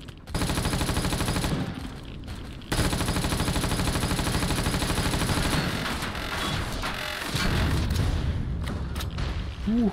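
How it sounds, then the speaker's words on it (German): Sustained rapid gunfire pounding against a ship in the space survival game Empyrion, a loud, dense rattling stream that briefly pauses and resumes, with heavier booming impacts toward the end. "Du hast auf mein Schiff geschossen."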